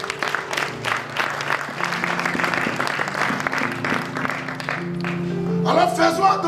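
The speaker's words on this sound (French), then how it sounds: "Si tu es d'accord, acclame Jésus" Church congregation applauding and cheering during a sermon, steady dense clapping with crowd voices mixed in, growing a little louder toward the end.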